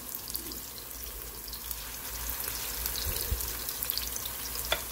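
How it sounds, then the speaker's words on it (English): Meatballs fry in a pan with a steady, close crackling sizzle that holds evenly throughout, with no voices. "I'm going to have to fry these in two batches"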